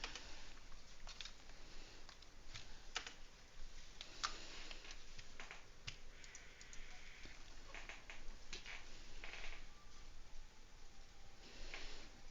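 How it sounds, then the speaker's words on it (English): Rapid, irregular ticking and clicking of typewriter-style text scrolling in the video game Final Fantasy XI, faint and steady over quiet background sound, with no talk. "I don't like the typewriter noise though."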